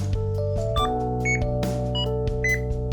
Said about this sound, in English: And right away, we have an alarm.